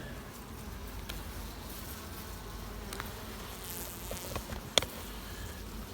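A low, steady hum of many honey bees buzzing close by at a hive, with a few light knocks and taps.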